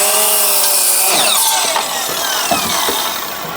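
A handsaw cuts through a wooden board while building DIY wooden stars, a steady rasping stroke sound, close and loud, with no talking.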